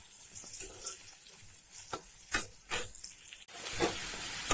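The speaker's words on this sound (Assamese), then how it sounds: "সৰু বেঙেনা এইখিনি ভাজি আছোঁ এতিয়া।" Small brinjals fry in a pan with a soft, steady sizzle, broken by a few brief stirring scrapes and clinks, and the hiss swells louder near the end.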